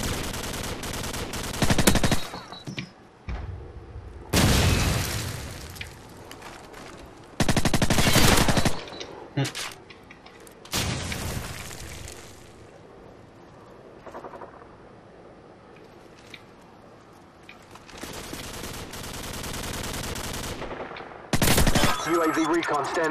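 Gunfire from Call of Duty 4 multiplayer: loud bursts of automatic fire break out several times across the stretch, separated by quieter game noise and occasional talk.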